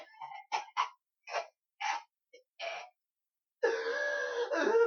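A string of short, sharp coughs in quick bursts, followed by a longer strained, rasping cough, all close and fairly quiet.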